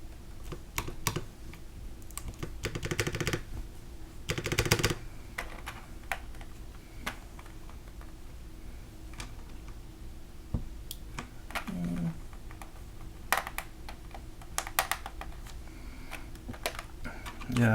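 Steady typing on a Space65 mechanical keyboard fitted with alias housing switches, halo stems and GMK Calm Depths keycaps: rapid, crisp clacks at close range with occasional heavier bursts and brief pauses, no voices.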